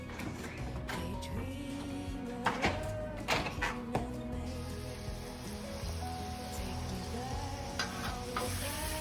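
Steak sears on a two-burner griddle turned up high, giving a close, crackling sizzle with a few sharp scraping and clattering hits from a utensil partway through.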